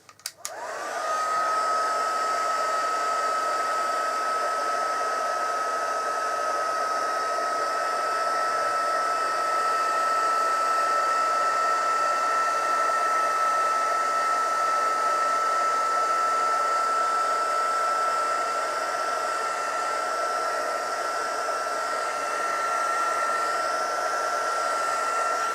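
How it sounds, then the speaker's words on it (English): A handheld heat tool blows hot air to melt glitter embossing powder on a stamped card, a steady whirring hum running continuously and fairly loud, with a faint rising whine in its tone. "what you're going to do with this heating stick, if you melt it again, give it another blow over"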